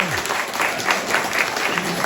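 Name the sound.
audience applause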